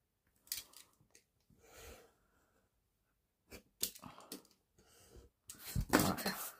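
Scissors snipping through paper for a scrapbook album page, several close crisp cuts in short bursts separated by quiet pauses, with soft handling rustle and no speech.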